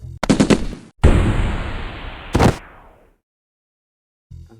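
Animated Lego weapons fire in a shootout: a rapid burst of machine-gun shots, a longer sustained roaring volley with a decaying tail, another sharp burst, then silence and a faint final thump, all loud and close.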